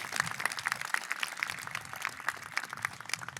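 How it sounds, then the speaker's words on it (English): Applause for police officers, reserve officers and security guards at a Dearborn High School commencement ceremony, a moderately faint, patchy clapping with distinct individual claps standing out in an uneven rhythm. "Let's give them all a round of applause."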